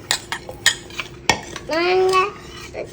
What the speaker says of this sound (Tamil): இந்த பிரெட் க்ரம்ஸ் இதில் ஆட் பண்ணி நல்லா மிக்ஸ் பண்ணிக்கிறேன்